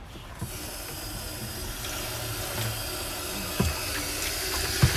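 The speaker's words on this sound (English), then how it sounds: "Rinse out the bucket, get everything out" Steady water running and splashing as a bucket is rinsed out, a continuous broadband wash with a few small knocks near the end, no talk over it.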